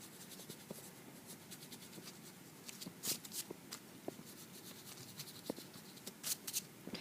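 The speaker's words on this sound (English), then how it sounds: "Okay, so I'm going to erase my lines here." Soft scratchy rubbing of an eraser removing pencil lines on paper, quiet and close, with irregular light strokes and a few sharper brushes, no voices.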